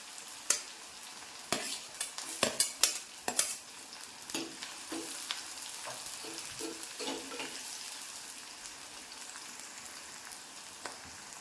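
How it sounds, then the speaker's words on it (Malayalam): Green chillies fry in oil and get stirred in a pan for a simple tomato curry: a cluster of sharp spatula scrapes and pops at first, then a steady, even sizzle. "അതിനുശേഷം നമ്മൾ ഈ പച്ചമുളക് കൂടെ ഇട്ട് കൊടുക്കും"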